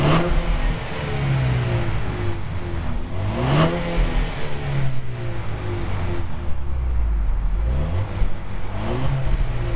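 A 2020 Jaguar XE P300 R-Dynamics S engine revs steadily while driving, rising and falling through several pitch sweeps under continuous road and wind noise from inside the cabin.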